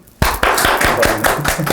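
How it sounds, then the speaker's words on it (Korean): Someone claps their hands during a shaman's consultation: a quick, even series of about eight crisp claps, close and loud, with no talking. "간만에 박수 쳐주고 싶다."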